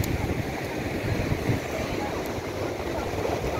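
Ocean waves at a beach where people play in the water, a dense, continuous wash of surf and rushing water close by, with wind buffeting the microphone and faint voices mixed in.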